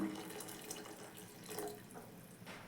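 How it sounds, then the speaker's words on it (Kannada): Water is poured into a pot of egg sambar while cooking in a home kitchen, a soft, close trickling flow that is faint and continuous, with no talking. "ನಾನು ನೀರು ಸೇರಿಸ್ಕೊತ ಇದ್ದೀನಿ"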